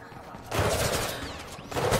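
Gunfire in Mirror's Edge Catalyst, heard as two dense, rattling bursts of rapid shots separated by a short lull, fairly loud and close.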